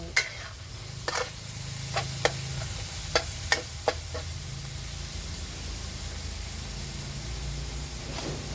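Egg frying in a pan for a chicken and okra stir-fry, a steady sizzle under scattered sharp scrapes and taps from a spatula stirring, close and continuous.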